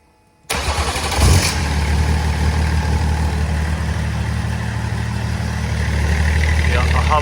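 BMW M57 diesel engine running on standalone wiring, cranking and catching near 0.5 s, then a steady, loud, close idle rumble that holds for the rest of the clip.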